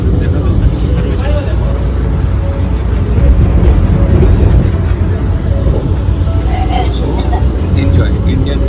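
An Indian Railways train runs steadily, heard from inside a chair-car coach as a constant low rumble and rolling rattle, with people talking over it.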